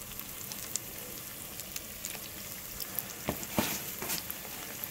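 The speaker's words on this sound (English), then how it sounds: "I'm just going to start dropping these in one by one, literally dropping them in because I don't want the hot oil to get on this plastic glove" Artichoke hearts deep-fry in a pot of hot oil with a steady, close crackling sizzle. Sharper pops and spits rise as pieces drop in one at a time, and no one speaks over it.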